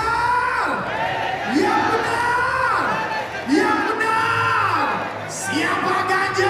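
A large crowd at a political party rally in Surabaya cheers and yells in repeated swelling waves, loud and sustained, with voices rising and falling together and little distinct clapping.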